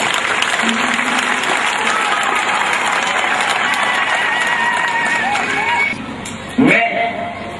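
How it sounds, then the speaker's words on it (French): Crowd applause at the Mbata-Mbenge diamond jubilee celebration, sustained clapping and cheering with voices mixed in, dropping away near the end as a voice cuts through. "Applaudissons tous."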